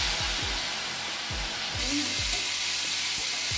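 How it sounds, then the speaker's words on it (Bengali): Amaranth stalks and potatoes frying lightly in hot oil after a tempering of dried chili and five-spice, a steady loud sizzle close up with a few soft utensil knocks underneath. "এবার ডাঁটা আলুটাকে আমি কষিয়ে নেবো এটা আমি হালকা করে ভেজে নিচ্ছি প্রথমে"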